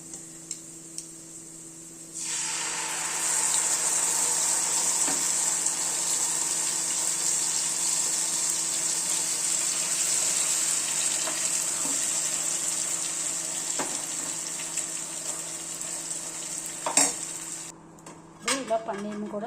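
Gravy is poured into a pan and stirred while making paneer aloo curry, giving a steady hiss that runs for about fifteen seconds, then breaks into a few light clinks of utensil on pan.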